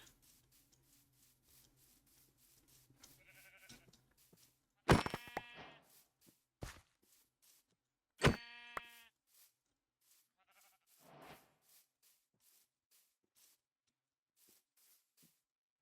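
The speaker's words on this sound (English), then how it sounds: "some sheep." A few sheep in a video game bleat in short, sharp bursts, spaced apart over a faint background, with soft rustling between calls.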